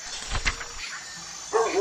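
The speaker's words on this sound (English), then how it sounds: "Aso. Sa English, dog. Sa Tagalog, aso." A dog barks a couple of short times, then gives a higher whining yelp near the end. The sounds are moderately loud against a faint background hiss.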